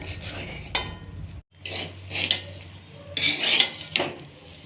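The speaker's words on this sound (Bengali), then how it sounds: "এবার ভালো করে ভেজে নেবে একটু" A spatula scrapes and rasps against a pan, stirring rice grains with spices in repeated strokes for khichdi, with a faint sizzle and occasional metal clinks.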